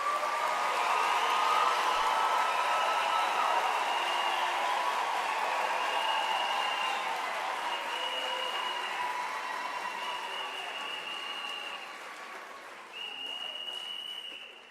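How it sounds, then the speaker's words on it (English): Sustained applause from a large audience at a university spring graduation ceremony, steady dense clapping that tapers slightly near the end with a brief renewed burst. "Let's give our graduates a big round of applause."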